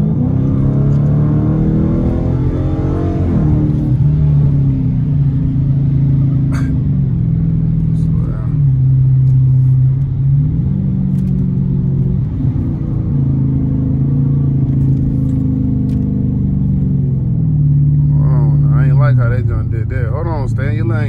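Loud, catless car engine pulling hard onto a highway, a steady deep exhaust drone that rises and falls as it revs and shifts through the run, with brief tire and road noise near the end.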